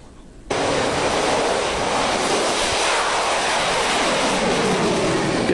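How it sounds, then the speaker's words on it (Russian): A Sukhoi T-50 PAK FA stealth fighter jet in flight on its first flight, a sudden loud, steady jet roar that kicks in after a quiet moment and holds, with no voices. "Российский истребитель 5-го поколения, созданный по технологии стелс,"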